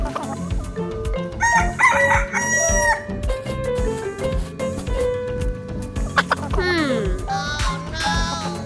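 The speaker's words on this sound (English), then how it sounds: "Chicken." Chicken crowing and clucking in a game-style animal sound sequence, with several loud, close cock-a-doodle-doo calls and squawks over a busy background of music-like tones.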